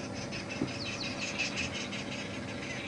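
Arrow-marked babblers call far off in the bush on a morning safari drive at Djuma Game Reserve, a faint, continuous chattering of repeated notes over a soft background of insects and ambient noise.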